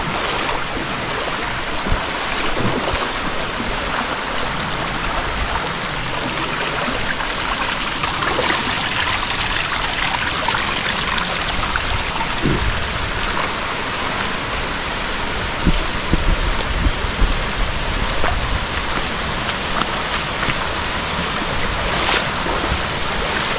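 Steady, dense rush of a waterfall churning into a pool on the Llucena river, continuous and loud with no voices.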